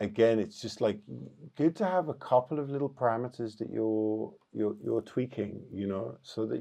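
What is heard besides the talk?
No everyday noise stands out behind the speech.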